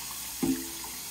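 Beans are rinsed under a running kitchen tap, a steady broadband rush of water with a brief louder splash and a short ringing tone as the flow hits the beans.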